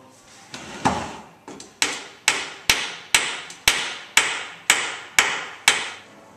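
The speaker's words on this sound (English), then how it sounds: "going to drive in a dowel to secure that joint" A dowel is driven into a glued joint of a skin-on-frame canoe frame with about eleven sharp, evenly spaced hammer blows, each a loud close crack with a short ringing decay, following a few softer taps.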